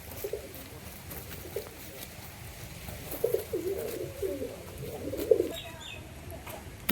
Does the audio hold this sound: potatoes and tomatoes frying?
no